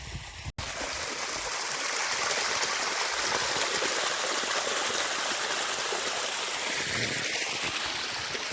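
Irrigation water, likely factory wastewater, pours steadily into a sugarcane field on a farm near the hills, a continuous loud rushing flow close by after a single click at the start.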